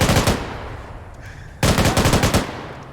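Automatic gunfire during a training session comes in two loud, close bursts of rapid shots, separated by about a second of quieter lull.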